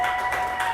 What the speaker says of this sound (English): So big round of applause for those.